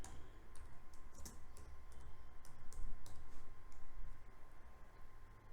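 Computer mouse clicks sound in a quiet room, a scattered series of sharp, close, soft taps at irregular intervals over a faint steady hum.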